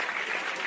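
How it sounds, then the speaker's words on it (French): A studio audience applauds Daniel, a dense steady burst of many hands clapping, close and sustained for under a second. "mesdames et messieurs, on applaudit Daniel, mesdames et messieurs"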